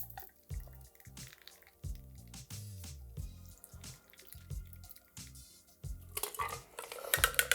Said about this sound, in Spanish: Y ahora en una copa previamente fría vamos a doble colar.